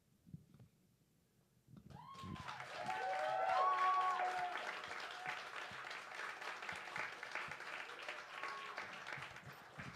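An audience at a slam poetry event breaks into applause after a short quiet stretch. The clapping is loud and sustained, with whoops and whistles rising over it.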